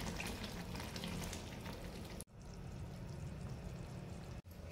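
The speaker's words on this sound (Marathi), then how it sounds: "वरून पाणी टाकायचं।" Water is poured into a pan of cooking tomato saar made with boiled, mashed tomatoes, giving a close, steady rushing splash and sizzle that stops abruptly, then a quieter simmering hiss.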